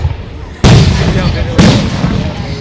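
Fireworks burst over Runyan Lake in Fenton, Michigan, with two loud, close booms about a second apart, each followed by a rumbling, crackling tail under distant crowd noise.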